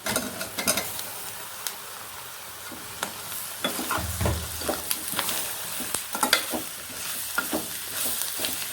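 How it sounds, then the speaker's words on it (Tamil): Mashed boiled potatoes for potato masala sauté in oil, a soft sizzle under repeated scraping stir strokes that come in irregular bursts; nobody talks. "எண்ணெயில் வதங்கின உடனே நம்ம வேக வச்சு மசிச்சு வச்ச உருளைக்கிழங்கு சேர்த்துறோம்"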